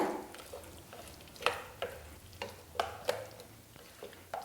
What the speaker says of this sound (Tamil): இப்போ இதெல்லாம் சேர்த்துட்டு நல்லா மிக்ஸ் பண்ணிவிடுங்க